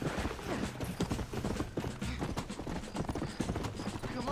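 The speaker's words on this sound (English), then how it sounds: "horse, stop fucking galloping away from me" A horse in the video game Red Dead Redemption gallops with a rapid, steady clip-clop of hooves, fairly loud and continuous, with faint mechanical creaks underneath.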